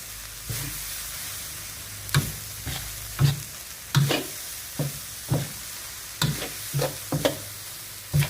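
Grated coconut filling for Thai khanom thian being stir-roasted in a pan, giving repeated scraping, stirring clatters at an irregular rhythm over a soft steady sizzle, close and moderately loud, with no talking.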